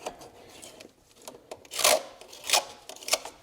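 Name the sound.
gasket scraper cleaning EGR valve mounting surface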